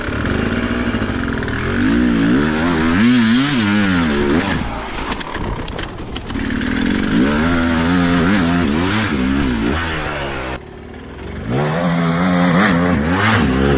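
An enduro dirt bike rides over tree roots in a forest. The engine is close and loud, droning and rising and falling in pitch as the throttle changes, with no voices.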